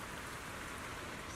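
Steady rain pours in a video game scene, a dense continuous hiss of drops on surfaces with no voices, even and close throughout.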